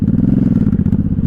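A 1983 Honda Shadow VT750C 750 motorcycle rumbling under gear changes, a loud close low engine throb with a rapid steady pulsing beat throughout.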